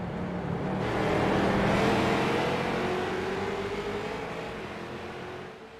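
Street stock race cars roar around the Barber circuit, a broad sustained engine drone swelling and then easing as the pack passes, with one engine note climbing steadily through the clip.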